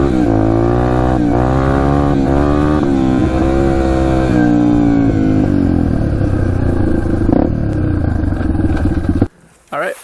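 A Yamaha TTR230 dirt bike ridden along a wooded trail, its single-cylinder engine loud and close with a continuous revving drone that rises and falls, then cuts out abruptly near the end.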